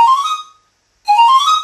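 Two breathy, airy tones from a Papageno-style pan flute tuned an octave lower, made for vocalists on stage, each sustained about half a second and separated by a brief silence, close and clear with no talking.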